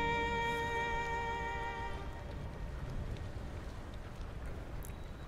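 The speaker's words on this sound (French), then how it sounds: "la pluie claquant sur la mer troublait le grésillement plaisant des petites vagues" Rain pattering on the sea, a dense steady hiss of drops that continues evenly throughout, with a fading high tonal hum heard only in the opening seconds.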